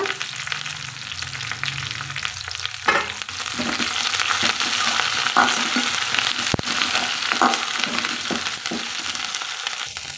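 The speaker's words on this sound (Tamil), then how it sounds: "கருவேப்பிலை சேர்த்து வதக்கலாங்க" Curry leaves sautéing in a pan for a curry-leaf kuzhambu, a steady bright sizzle with scattered crackles and occasional spatula scrapes and taps, close and continuous with no talking.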